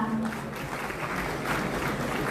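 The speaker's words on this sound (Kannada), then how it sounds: "ವೇದಿಕೆ ಮೇಲೆ ಒಂದು ಚಪ್ಪಾಳೆಯನ್ನ ನೀಡುತ್ತಾ" Audience applause at a government title-deed distribution ceremony in Belagavi's Suvarna Soudha, a steady mid-level patter of many hands clapping throughout.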